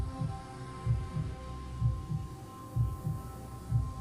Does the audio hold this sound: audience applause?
no